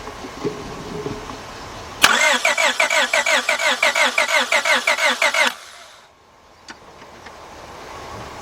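A 2002 Honda Accord with the 2.3 engine cranks without catching for about three seconds: a loud, close, rapid rhythmic whirring of the starter. It then cuts off abruptly into near silence, followed by a faint click.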